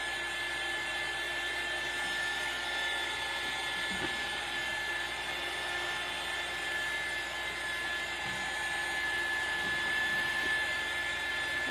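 A hair dryer blows continuously to dry paint on a craft project, giving a steady, even whirring hum throughout with no talking.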